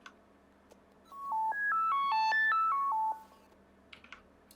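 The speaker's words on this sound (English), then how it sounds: "A much more electronic sound, just like a pitched square" An electronic pitched square-wave arpeggio rises and falls in quick stepped notes, muffled at first by a low-pass filter that opens up and then closes again, steady and moderately loud over faint background hum.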